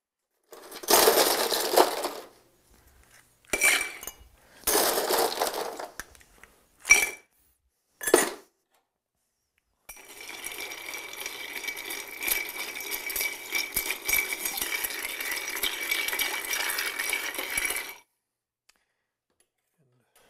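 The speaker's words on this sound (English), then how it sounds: "Now we're going to take and stir the drink with ice." Ice clinking and rattling in a mixing glass as a Flame of Love cocktail is stirred, coming in short bursts and then a steady stretch of continuous stirring that stops near the end, with no talking.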